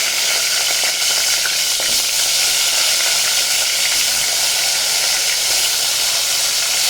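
Loud, continuous hissing sizzle of asafoetida and chopped eggplant frying in hot oil, close up and unbroken, with faint scraping underneath.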